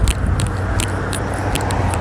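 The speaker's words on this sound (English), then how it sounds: "Oh man, that's a lot of traffic today" Road traffic rumbles close by in a dense, steady low roar, with a few regularly spaced brighter ticks or clicks riding on top for two seconds.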